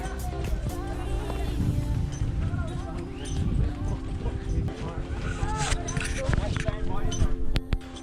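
Horses clop along at a steady walking pace in Pahalgam Valley, Kashmir, hooves thudding on the ground while people riding them talk over the sound.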